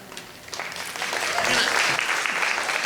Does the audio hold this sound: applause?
yes